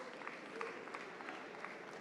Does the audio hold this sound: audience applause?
yes